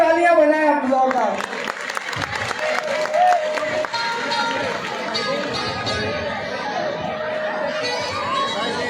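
Crowd clapping at a Kalka Maa jagran devotional night gathering, steady rhythmic applause from many hands carrying on under an amplified voice speaking to the audience.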